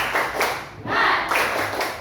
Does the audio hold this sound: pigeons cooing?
no